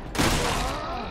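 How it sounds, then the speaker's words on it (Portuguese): A burst of gunfire in Resident Evil 6 during Ada's campaign, a single heavy blast followed by a rolling echo lasting about a second. "Tô ouvindo até tiro."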